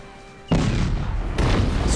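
Cannon fire in the strategy game Cossacks: Back To War, with a sudden loud boom bursting in after a quiet half second and a second blast layering on near the end, heavy rumbling battle noise throughout.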